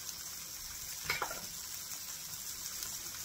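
Continuous soft sizzle of Spam slices frying in a pan, with a short burst of stirring or scraping early on, no voices.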